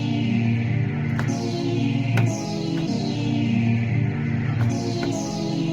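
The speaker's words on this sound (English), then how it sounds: "On the intro, I wanted to use the original strings, but play my own version of the riff." Sampled original strings over a reworked riff in a breakbeat remix intro. Layered sustained string tones swell continuously under a repeating riff, with sharp effect sweeps recurring at regular intervals.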